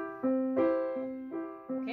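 A piano plays a short preview of the piece Distant Bells, with separate marcato bell-like notes struck one after another, each ringing clearly and decaying before the next, close and fairly loud.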